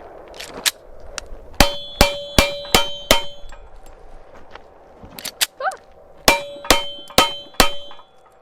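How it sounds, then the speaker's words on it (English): Pistol shots fired at close range on a steel target with frangible ammo give sharp metallic clangs, a steady string of four evenly spaced hits, a short pause with faint clatter, then four more ringing impacts. "So we walked up about 4 or 5 inches away from a steel target,"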